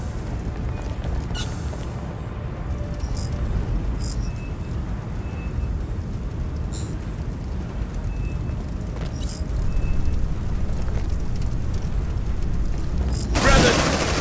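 Grenade blasts and gunfire in the game Aliens Dark Descent, rumbling booms and scattered shots over a dense, noisy combat bed, with one loud sharp burst near the end.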